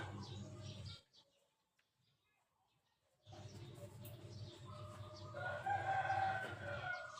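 A rooster crows amid the background of a rural cockfighting gathering; a short burst of sound gives way to near silence, then a busier stretch with a strained crow rising over ambient noise.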